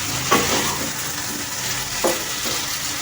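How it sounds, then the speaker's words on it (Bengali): Poppy seed paste being stirred into a pan of Bengali curry for aamish sukto, soft scraping and stirring strokes over a steady faint sizzle, with two louder scrapes standing out. "পোস্ত বাটা দিয়ে আমি একটু নাড়াচাড়া করে নেব।"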